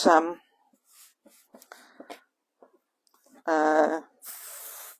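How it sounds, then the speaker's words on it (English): Short hissing bursts of an aerosol adhesive spray onto Thermolam wadding, a longer spray near the end, between quiet rustling and brief spoken words. "take some spray. Just going to go here and spray it on my wadding"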